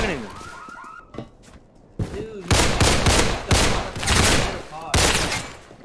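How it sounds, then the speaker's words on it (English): Gunfire in the Roblox game Criminality: a run of sharp, loud shot bursts from about two seconds on, with voices talking over the shooting. "why the fuck are you shooting?"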